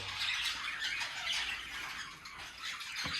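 Shrill, harsh squawks from a pair of double-reflector sun conure parrots repeat in quick succession, loud and close, with little pause between calls.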